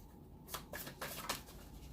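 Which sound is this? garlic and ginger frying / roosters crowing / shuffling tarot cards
shuffling tarot cards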